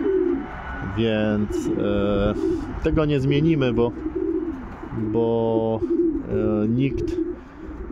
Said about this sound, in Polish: To jakieś ptaki wracają